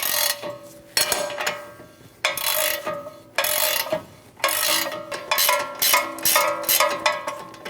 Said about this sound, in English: I'm going to use an 8mm Allen bit to hold the stud while I use a 24mm wrench to loosen the nut